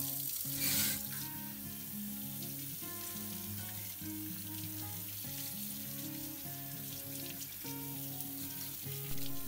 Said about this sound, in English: Now I'll wash the rub from the meat surface.